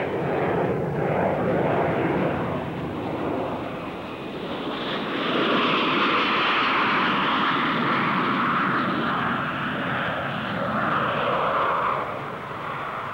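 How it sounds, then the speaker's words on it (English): A Blackburn Buccaneer naval strike jet passes at an air show, its engines a steady, broad roar that swells and eases over several seconds, heard from a distance with wind noise mixed in. "The Buccaneer, a low-level naval strike aircraft designed to operate below radar cover."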